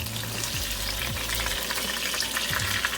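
Oxtail pieces brown in a hot pan with a steady, close, loud sizzle and crackle throughout, a low hum running underneath and no voices.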